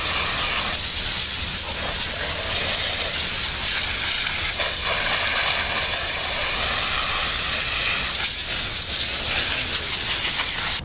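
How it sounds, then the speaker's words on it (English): A water hose sprays steadily into the joints of a stone wall being repointed, a loud continuous hiss that varies slightly as the stream moves across the stonework. "Then we're just going to get the hose and wash it all out."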